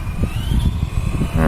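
An ECX Torment 1/10 scale RC short course truck driven on light throttle gives a brief, rough electric motor whir with bumpy, uneven rumble from the wheels, close and fairly loud.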